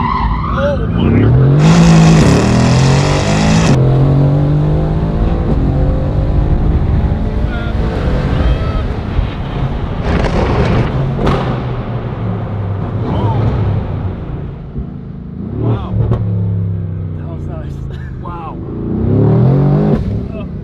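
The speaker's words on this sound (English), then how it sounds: "That blow off valve." A loud car with an aftermarket exhaust revs hard, its engine rising and falling in repeated bursts, with turbo blow-off valve whooshes between revs. Excited voices talk and exclaim over it close by.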